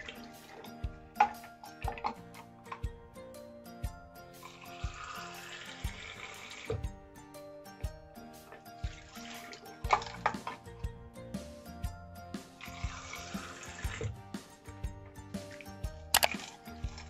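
Water is tipped out of a container after rinsing a makeup brush, making quiet, intermittent splashes and trickles with small drips between pours.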